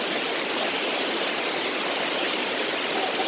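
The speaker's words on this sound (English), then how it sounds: "So as you can see, these little mini waterfalls, which I like." Small mini waterfalls pour in a continuous broadband hiss and rush, steady and fairly close with no other sounds.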